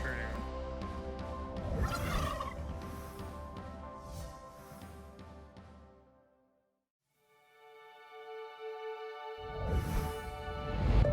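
Farmed turkeys gobbling at an outdoor celebration for the turkeys, repeated loud rattling gobbles in bursts with a quiet gap in between, mixed with some talk.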